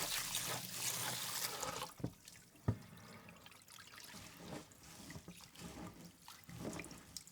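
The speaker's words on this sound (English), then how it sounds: "wash 300 grams of jasmine rice under running water" Water runs from a tap over jasmine rice being rinsed, loud at first and then settling into a softer trickle and splashing, with a few brief knocks.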